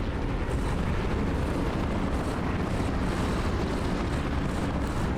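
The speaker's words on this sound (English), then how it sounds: "I hear a lot of planes." Many warplanes in the War Thunder video game drone in a dense, continuous engine roar that stays steady and loud throughout, with no talking.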